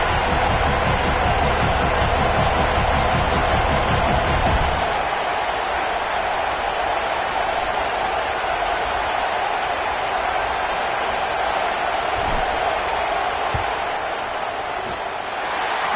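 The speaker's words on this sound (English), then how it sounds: "This crowd trying to do its part to get inside the kicker's head." Loud stadium crowd noise in a football video game as a kicker lines up a field goal, a thick roar for about five seconds that drops to a quieter, lingering murmur.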